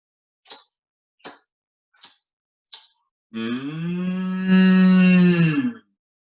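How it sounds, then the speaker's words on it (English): A cow moos in one long, loud, drawn-out low call lasting a couple of seconds, preceded by four short, evenly spaced soft thuds. "the only creature they had left was a cow"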